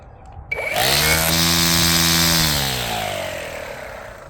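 A brushless 56-volt battery string trimmer starts and spins up to its low speed setting, a close, steady whirring motor whine that holds, then eases slightly.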